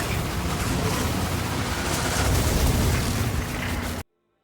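A large explosion in the video game Rogue Trader: a sustained, loud rumbling blast that roars for about four seconds and then cuts off abruptly into near silence.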